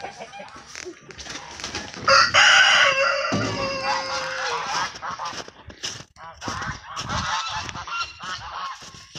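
Geese honk loudly and a rooster crows nearby, with a busy chorus of poultry calls and clucks overlapping throughout.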